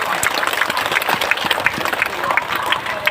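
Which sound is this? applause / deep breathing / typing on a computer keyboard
applause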